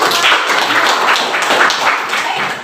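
Classroom applause from students during an Indonesian-language lesson, a loud, close burst of rapid clapping that continues steadily for the whole stretch.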